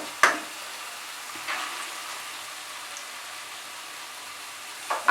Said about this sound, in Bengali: আঁচটাকে বাড়িয়ে দিয়ে মুসুর ডালের সঙ্গে মশলাটাকে মিশিয়ে নিচ্ছি।